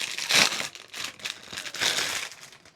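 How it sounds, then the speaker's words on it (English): A roll of tape being opened and pulled, with crinkly crackling and tearing in two louder bursts, close and fairly quiet, no voices. "And then let's open this tape"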